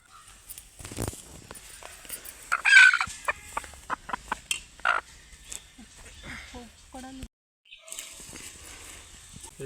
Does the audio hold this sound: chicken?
yes